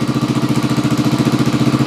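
A Honda 250X motorcycle engine idles close by, a loud, steady single-cylinder chug pulsing in a quick, even rhythm throughout.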